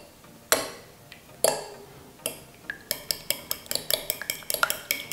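Eggs beaten with salt and pepper in a bowl: a few separate sharp taps, then a quickening, steady run of clinking whisk or fork strokes against the bowl, close and clear with no talk.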